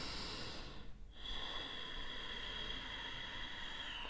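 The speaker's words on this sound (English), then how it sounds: "where you can use ujjayi breath, and it sounds a little bit like you're snoring" Ujjayi breathing during a yoga session for anxiety, a soft, snore-like rasp of breath drawn through the throat, faint and steady with a brief pause near the start, heard alone without talk.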